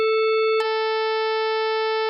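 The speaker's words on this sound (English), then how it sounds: "Pulse wave." A pulse wave synthesized in Pure Data sounds as a loud, buzzy sustained tone that shifts its timbre with a click partway through, then holds steady, with nothing else audible.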